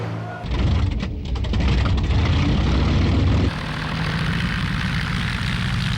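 Droning propeller engines of approaching Luftwaffe bomber aircraft over London on a September afternoon in the Second World War, a loud, steady rumbling roar that swells in and holds, then eases slightly to a lower sustained drone.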